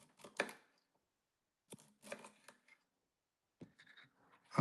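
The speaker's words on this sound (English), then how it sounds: "then we come back through and we start chopping these down this way" A knife chops vegetables in a home kitchen, with a few short bursts of cutting strokes separated by pauses, quiet and close.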